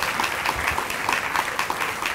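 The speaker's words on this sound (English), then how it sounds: "So let's give all our finalists a big round of applause." Audience applause at a university Three Minute Thesis grand final, honouring the finalists: a steady, dense wash of many hands clapping, sustained and even throughout without voices on top.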